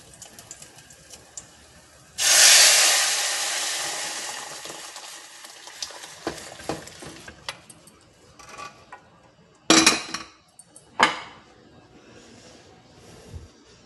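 A sudden loud sizzle bursts out as spices for tempering hit hot oil, then fades to a crackle, followed by clinks and sharp knocks of utensils.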